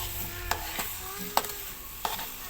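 Biko sticky rice cake stirred in a pan, with a few sharp scraping knocks of the spoon against the metal over a faint sizzle, close and fairly quiet.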